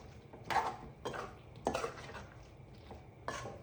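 A sausage roast is stirred in a pan, producing a few separate bursts of metal scraping and clatter against the cookware with short quiet gaps between them, close and fairly soft, no talking.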